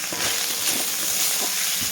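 Cumin paste and turmeric sizzling and frying in a pan as they are stirred, a steady close hiss with soft scraping strokes underneath.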